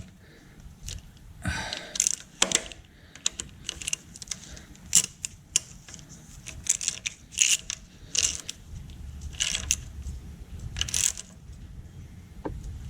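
Someone tightens the end cap on a Farmall Cub engine during piston ring installation, producing a series of sharp metallic clicks and ratcheting bursts spaced irregularly over about thirteen seconds, close and fairly quiet with no talk.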